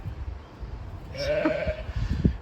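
A single sheep bleats once in a wooded paddock, one clear wavering call at moderate distance over faint outdoor rustling and footsteps.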